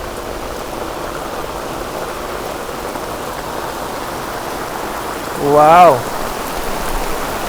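Heavy thunderstorm rain pours steadily and loudly onto surfaces outdoors, a dense continuous wash, while one person briefly exclaims partway through.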